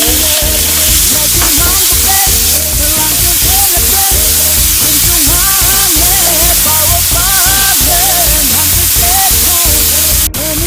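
Ginger and tomato sizzle loudly and continuously in a hot pan with onion and garlic for pork keema, with occasional stirring scrapes and no talk.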